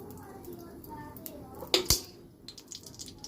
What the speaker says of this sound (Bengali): চামচটা পড়ে গেল।